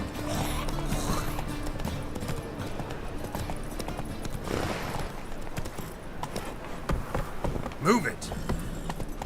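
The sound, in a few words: horse Roach galloping in video game Witcher 3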